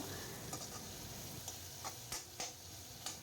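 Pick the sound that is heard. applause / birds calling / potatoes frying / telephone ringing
potatoes frying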